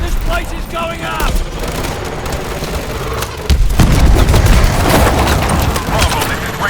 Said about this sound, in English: Pressure explosion! This place is going up!